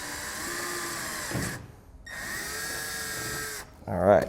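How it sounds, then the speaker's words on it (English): Power drill boring holes into a 2012 Chevrolet truck tailgate, two sustained whining bursts separated by a brief pause, close and fairly loud, with a short clatter at the end. "We do have about 14 holes we need to drill"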